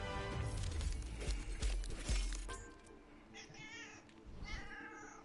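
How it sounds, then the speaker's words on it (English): A cat meows indoors: a few rising, plaintive calls in the second half, after a stretch of low rumbling noise. "I hear a kitty."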